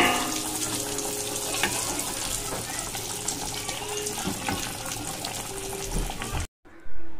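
Fish fry pieces frying in hot oil in a home kitchen give a dense, continuous close-up sizzle that holds steady and then cuts off abruptly near the end.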